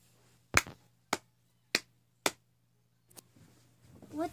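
Four sharp hand claps, evenly spaced about half a second apart, close and loud in a quiet room, followed by faint rustling and a soft voice-like sound at the end.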